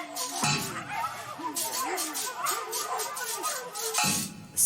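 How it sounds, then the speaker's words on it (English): Dogs bark and whine in a strained, high-pitched way within a muffled, processed-sounding horror film soundtrack, with brief voices and bursts of noise at the start and end. "it turns to high-pitched noises and dogs barking"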